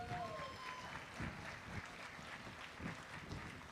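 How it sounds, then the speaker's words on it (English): Audience applause at the groundbreaking ceremony for a new terminal at San Antonio International Airport, outdoors with wind: moderate, scattered clapping from a crowd, fairly distant and steady across the moment. "Give everybody up here on the stage a big round of applause."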